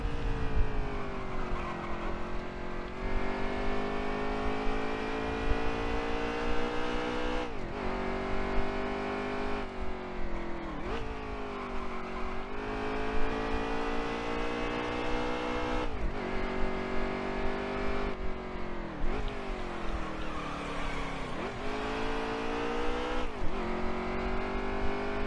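Racing truck engine roaring steadily through a video-game qualifying lap in Canada, its pitch climbing and dropping sharply at each gear change, with brief tire squeal, loud and continuous with no talking.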